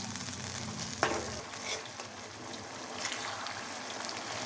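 A garlic sauce mixture for chicken manchurian starts to bubble as it sautés on a medium flame, making a soft, quiet sizzle with faint stirring scrapes and a single sharp clink near the start.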